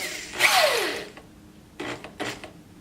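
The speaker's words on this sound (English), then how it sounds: "carefully and slowly drill your screw into your material" A drill drives a screw into wood: one short whirring burst with a falling pitch as the motor spins down, then two brief, quieter buzzes after a pause, close and alone.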